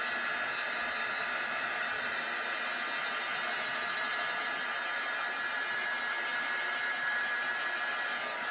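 A hair dryer blows steadily and continuously as it dries a wet journal page, producing an even, moderately loud whooshing hiss with no pauses and no voices.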